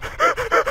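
A dog in the Minecraft video game gives a quick series of three or four short, whiny yelps or barks, close and fairly loud, with no talking over it.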